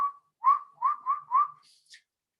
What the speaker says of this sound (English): if you do quiet whistles